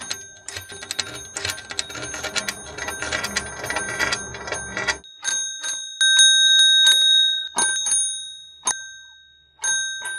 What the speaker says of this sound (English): The bell inside the house vibrates a little.